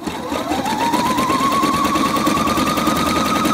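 A domestic sewing machine stitches along the edge of stretchy fabric as an overlock substitute, giving a loud, close, steady rapid whirring that runs continuously without talking.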